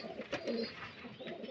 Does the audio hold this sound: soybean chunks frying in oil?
no